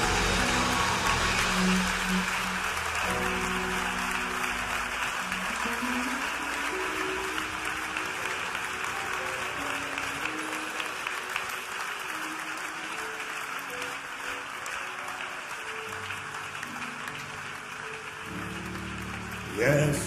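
A church congregation applauding, a dense sustained patter of clapping that is loudest at first and slowly thins out over twenty seconds, with voices mixed in.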